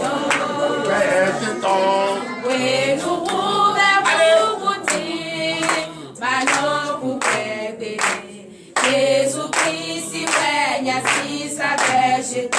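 A congregation at a Friday morning prayer service in Comè, Benin, claps rhythmically along with loud singing voices. The clapping keeps a steady beat through the whole passage, with a brief dip midway.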